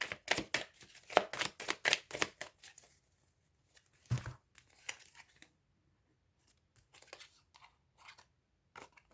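Tarot cards handled during a reading as one card is laid over another: a quick burst of papery slides and flicks at the start, a single soft thump, then sparse light rustles trailing off into quiet.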